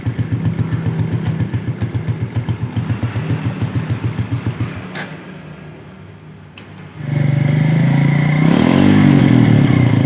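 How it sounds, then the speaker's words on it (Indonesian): A Yamaha Jupiter motorcycle engine idles with a rapid, chugging pulse, briefly drops away, then fires up and runs steadily at a higher, rougher pitch. "coba saya hidupkan, ternyata motor mau nyala dan indikator ini normal semua"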